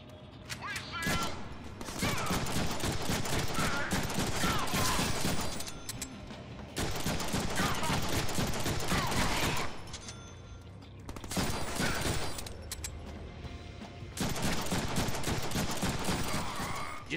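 Gunfire in the Deadpool video game: long sustained bursts of heavy automatic fire, loud and dense, coming in repeated waves several seconds long with brief lulls between, with some voices mixed in.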